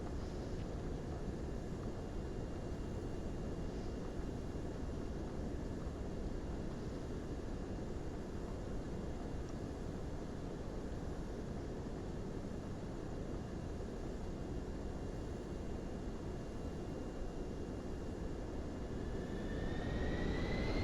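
Twin jet engines of a PC-24 idling in Microsoft Flight Simulator 2024, a steady broadband roar with a faint whine, holding constant and rising slightly at the very end.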